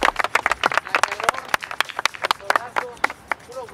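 Scattered clapping from a small group outdoors for barefoot football players at a street challenge event, with sharp irregular claps and voices talking over them throughout.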